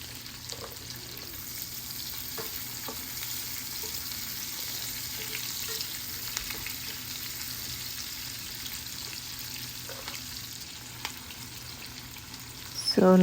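Onions and green chili fry in a pan with a steady close sizzle and crackle, joined by occasional faint stirring clicks and a sharper clatter at the very end.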